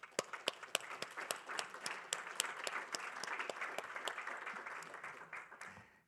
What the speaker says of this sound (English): if you want to just hold your applause for a moment